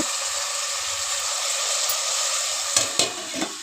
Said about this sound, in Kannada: ಟೊಮೊಟೊ ಹಾಕ್ಕೊಂಡು ನೀಟಾಗಿ ಅದನ್ನು ಮಿಕ್ಸ್ ಮಾಡ್ಕೋಬೇಕು